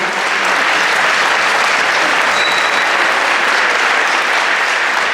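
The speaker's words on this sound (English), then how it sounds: "let's give a round of applause for our speakers" A school audience at a middle school winter band concert gives loud, sustained applause for the student speakers, a thick, even wash of clapping that stays steady throughout.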